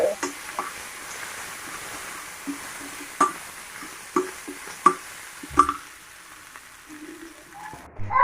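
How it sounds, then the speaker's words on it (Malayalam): Ginger and garlic sautéing in oil in a pan, a soft steady sizzle with scattered stirring clicks and taps from a utensil, close and fairly quiet. "നമുക്ക് ഇഞ്ചിയും വെളുത്തുള്ളി ഇട്ട് കൊടുക്കാം. നല്ലപോലെ ഒന്ന് വഴറ്റിയെടുക്കാം."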